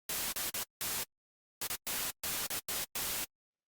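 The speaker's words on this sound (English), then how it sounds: "I've got this little muted track, and it's got some white noise on it" Gated bursts of white noise from a muted trigger track in an electronic chord-production setup, chopped into a rhythmic pattern of short and longer hissing blocks separated by silence, loud and dry with no talk.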